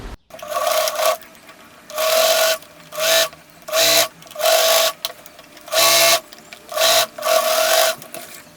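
A sewing machine stitches the belt of a pair of pants, running in about ten loud, close bursts of steady mechanical whirring, each a second or so long, separated by brief pauses.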